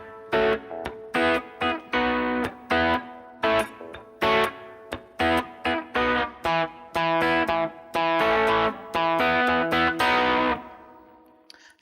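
Distorted electric guitar hammers out the breakdown of a song in sharp, stop-start chord stabs with brief silent gaps between them, loud and close, with no voices.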